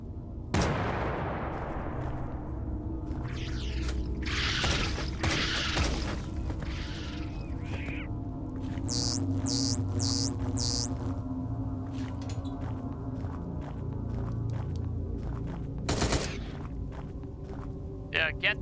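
Laser gun fire aimed at dinosaurs in the video game Dino Trauma: sharp blasts in a cluster of bright bursts, with footsteps, thuds and a steady game soundtrack underneath.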